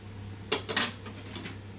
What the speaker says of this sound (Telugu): చూడండి రైస్ కలుపుతున్నారు. అడుగు నుంచి కలపాలి.